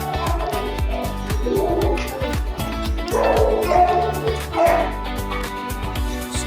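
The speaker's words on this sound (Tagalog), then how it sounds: "Maraming aso dito guys." Dogs of various breeds, including pitbulls, at a humane society shelter in Reno, Nevada, bark repeatedly in quick overlapping bursts with yips and whimpers, loud and close, filling the kennel space.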